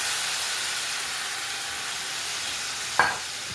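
Tomato sauce goes into a sizzling potjiekos pot, raising a steady close frying hiss throughout with a brief louder splash of sizzle near the end.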